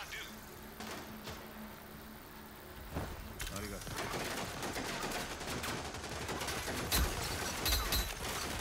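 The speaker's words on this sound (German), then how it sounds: "Digga, ich schieß halt gegen die Wand kurz halt" Gunfire in the video game Rogue Company, rapid automatic shots bursting repeatedly after a quieter opening, with someone talking over the shooting.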